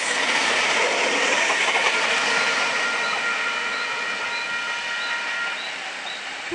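A VSET passenger train stands at the platform of Zig Zag station, giving a steady rail rumble with faint clickety-clack and hiss that holds at an even, moderately loud level throughout, with no talk.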